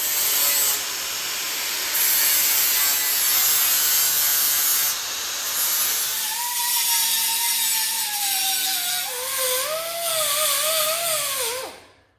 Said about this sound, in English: I'm all done sanding the dash